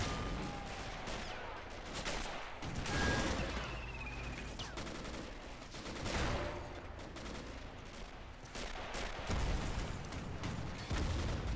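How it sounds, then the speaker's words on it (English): Heavy battle din from a Men of War game set in the 1939 German invasion of Poland, with a Bofors gun among rolling volleys of gunfire, artillery booms and distant rattles layered over a continuous roar, no talking. "Bofors is being active, or is actively engaging the armor somehow, or did it shoot at the infantry?"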